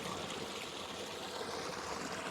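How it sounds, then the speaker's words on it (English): Water flows steadily from St Patrick's sacred well in Clonmel, Ireland, a soft, continuous rushing trickle heard close by with no voices. "So the water comes out."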